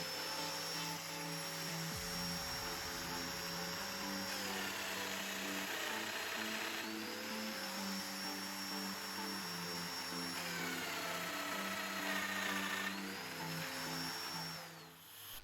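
A domino joiner whirs steadily with a motor whine that dips and rises several times as it cuts mortises in wood, running continuously without talk.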